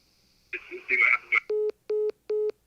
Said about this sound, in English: Everyone's calling in and hanging up now.